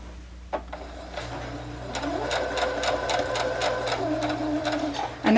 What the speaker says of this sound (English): We're going to do a couple of stitch backward.